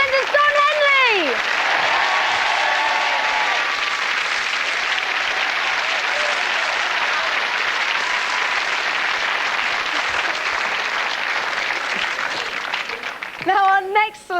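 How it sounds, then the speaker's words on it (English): A television studio audience applauding loudly and steadily for over ten seconds, dense clapping with a brief voice at the start and another voice as it fades. "Another round of applause, I think, as well"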